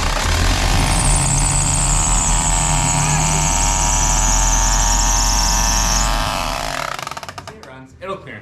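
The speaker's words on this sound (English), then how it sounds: "your fan's hitting the power steering" A V8 engine swapped into a 4Runner runs loudly and steadily, with a high squealing whine as the fan strikes the power steering, then cuts off near the end.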